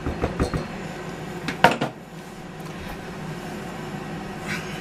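A spoon scrapes condensed milk cake batter around a mixing bowl, with a few sharp clinks and scrapes near the start before quieter rubbing continues.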